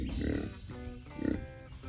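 A pig grunts twice in short, snuffling bursts, close and fairly loud.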